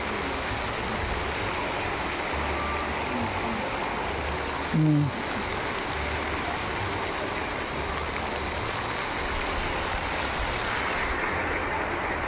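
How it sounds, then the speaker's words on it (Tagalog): Dense, steady heavy rain hisses continuously around a hut, broadband and fairly loud, with a brief low thump midway and no clear speech. "Malakas ang ulan, Paul."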